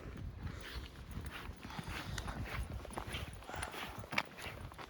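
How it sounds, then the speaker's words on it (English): Horses at a farm clip-clop on their hooves, an uneven run of close, soft knocks that carries on steadily under a low outdoor rumble, with no talking. "there's a farm over there with horses"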